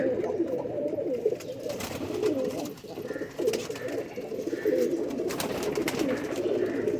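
Several pure-breed pigeons with rabbit-like eyes coo continuously in a steady, close, overlapping murmur, with no voices and a busy low warbling texture throughout.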